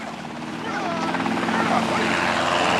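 A helicopter mustering cattle over country along the Burdekin River, a loud steady rotor chop and engine whine that holds throughout, close and continuous.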